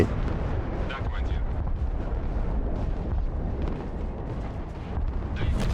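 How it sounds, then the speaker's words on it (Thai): Nuclear strike detonation fired by the enemy in a war video game: a sustained, dense low rumbling roar with crackling bursts, loud and continuous throughout, with a voice talking over it. "จังหวะนี้ศัตรูยิงนุกลงมาครับ"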